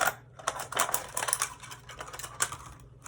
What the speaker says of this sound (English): The top of the bottle, we're going to cut.